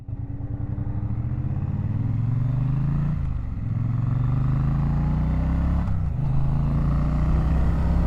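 A 2025 Triumph Bonneville T100 motorcycle engine drones loud and close while riding, its low exhaust rumble rising steadily in pitch through the gears with two brief dips at the shifts, continuous and without talk.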